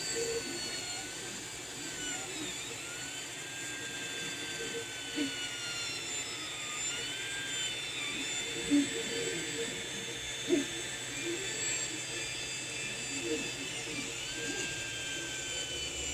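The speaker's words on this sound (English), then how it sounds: "3D printing. It's going to start doing our individual outlines." A 3D printer lays down outlines in a steady, quiet run of whining stepper-motor tones that glide up and down in pitch, with a low background hum and a few soft clicks.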